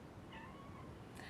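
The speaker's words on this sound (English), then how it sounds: "I've got a cat meowing outside" A cat meowing outdoors, faint and distant, a couple of short thin cries over a noisy background hiss.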